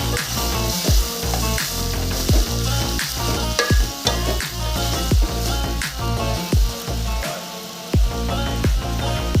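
Roasted, cut eggplant and tomato pieces fry in a pan for a tangy Rayalaseema eggplant curry, giving a steady close sizzle with repeated sharp clicks and stirring knocks throughout.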